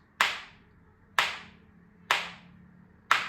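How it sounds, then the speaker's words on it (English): A pair of musical spoons struck against the leg gives four crisp, bright clacks at an even pace of about one per second, close and alone, each with a short fading ring. "So the first sound we're going to make is with our leg"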